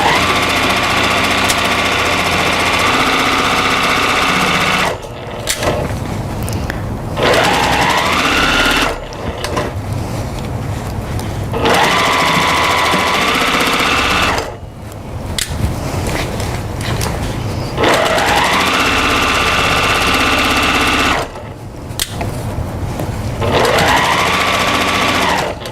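A sewing machine stitches a quarter-inch seam at a 2.0 stitch length while a quilt pattern is finished. It runs in a loud, steady whir of several long bursts, each stopping briefly between stretches of sewing.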